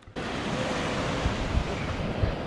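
Ocean surf washes steadily onto a beach after a stormy night, a broad continuous roar mixed with heavy wind buffeting the microphone, with a few low thumps and no voices.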